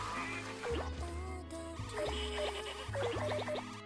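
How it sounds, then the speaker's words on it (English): Ducks quacking in a video game, several short nasal calls scattered over steady game music, fairly faint and close together. "Ducks."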